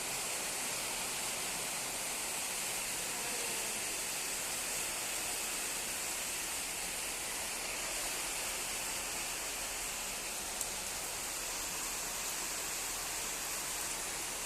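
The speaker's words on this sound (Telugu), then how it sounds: "ఇక చూడండి ఫ్రెండ్స్ ఎట్లా పడుతుంది వర్షం." Water pours down like rain in a steady, even hiss that never lets up, a soft constant wash with no voices over it.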